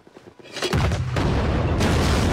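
Mortar and grenade launcher fire in a Band of Brothers war scene, a loud close boom that breaks into a sustained roaring rumble of blasts and debris, with no voices over it.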